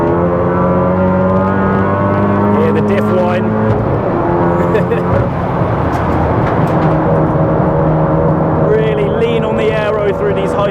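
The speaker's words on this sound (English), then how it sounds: "Hear the diff whine." Differential whine from an MK7 Golf R on track, a loud steady tonal drone riding over the engine roar and road noise as the car pulls through corners, with a voice talking over it.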